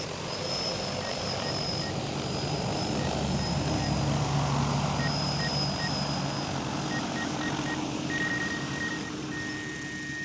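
Agricultural spraying drone hovering with a steady, loud propeller buzz and hum throughout, no speech, with faint tonal whine layered over the broadband rotor noise.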